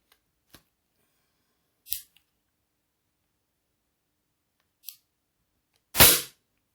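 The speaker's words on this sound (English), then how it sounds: "And third shot." Diana LP8 Magnum air pistol firing a light JSB Exact pellet: one sharp, short crack near the end after a few faint clicks, close and otherwise quiet, no voices.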